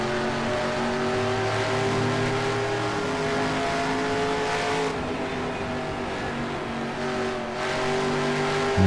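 Race car engines roar continuously in NASCAR Racing 2003, a sustained loud drone with shifting pitch from the revving motor and the pack of cars, tires whining beneath, with brief dips as the sound sweeps past.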